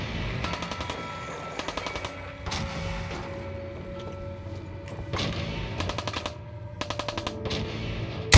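Gunfire in a Fallout game: repeated rapid bursts of automatic shots in short volleys separated by pauses, loud and close over a low background rumble.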